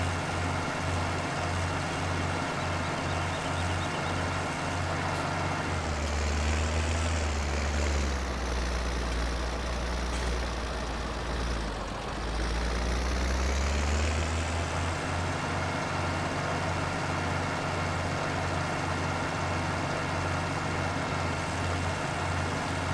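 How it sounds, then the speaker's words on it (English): Tractor engine in the Farming Simulator 17 game, working through deep snow in an abandoned forest: a steady loud diesel drone that swells and dips as revs rise twice, with no talking. "this tractor not having very good traction"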